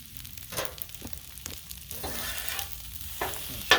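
Pork fried rice is stirred on a Blackstone flat-top griddle, with a soft ongoing sizzle and repeated scraping of the spatula across the metal surface in quick, uneven strokes.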